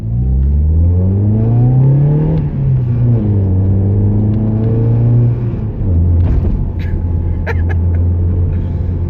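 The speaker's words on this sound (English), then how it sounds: "Every time I hear this thing rev up, I feel like I'm 5." A Mazda 323F's engine revs up and down several times, loud and close, its pitch rising and falling in repeated swells with a steady idle rumble between.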